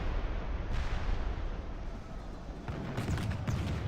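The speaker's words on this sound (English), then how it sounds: "He burned a lot of units with the Doom Wheel and the Hell Cannon." Skaven Hell Cannon in a Warhammer battle game, firing as heavy booming blasts over a constant battlefield roar, with a sharper burst of impacts near the end.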